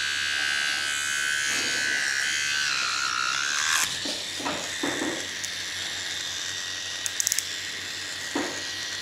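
An Artdriver AV2 tattoo pen runs with a steady high buzzing hum that holds throughout, close and moderately loud, with a few soft clicks and handling knocks partway through.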